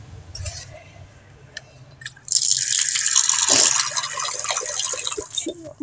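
Water splashes steadily into a birds' water dish for pet doves or finches, a close, continuous pour lasting several seconds that tapers slightly at the end, with someone talking briefly before it.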